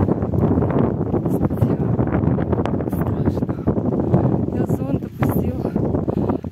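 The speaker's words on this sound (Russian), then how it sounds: "такое ощущение, как будто тебя сейчас ветром сдует отсюда" Strong wind buffets the microphone on top of Mount Akhun near Sochi, with rain and fog, a loud continuous roaring rumble while someone talks over it.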